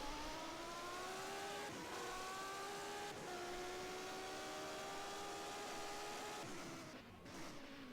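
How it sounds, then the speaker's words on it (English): A Judd-engined Formula 1 race car at Monaco in 1991, its engine holding a sustained high rasping note with shifting pitch through gear changes, loud and alone with no speech. "the Judd engine that doesn't have the prettiest sound in the world"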